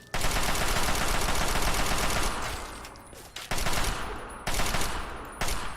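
Raiders' gunfire in Fallout 3 rattles as dense rapid automatic bursts, loud and close, with a long opening volley followed by several shorter bursts separated by brief gaps.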